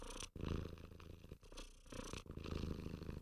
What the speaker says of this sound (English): We deserve to have a purring kitten.